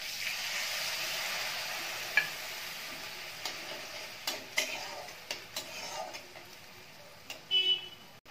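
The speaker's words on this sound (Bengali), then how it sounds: "আদা বাটা দিয়ে এটা মিশিয়ে দেবো আর অল্প একটু জল দিয়ে দেবো" Ginger paste is stirred into softened tomatoes in a pan for chana ghugni, a faint sizzle underneath with sparse, light spoon scrapes and taps growing more frequent toward the end.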